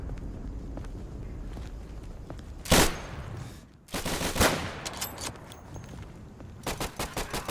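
Machine gun fire in the World War II shooter Day of Infamy, arriving as short loud bursts with a final rapid string of evenly spaced shots, over steady wind-like background noise.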